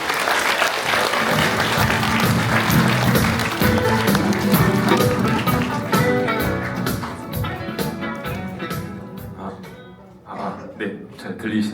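A lecture audience applauds and cheers as a speaker from a YouTube channel is welcomed onto the stage at a crypto talk. The dense, loud clapping is sustained for several seconds, then thins into scattered claps near the end.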